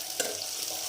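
Tadka of spices sizzling in hot oil in a pan in a home kitchen, a steady close hissing crackle with a few brief pops.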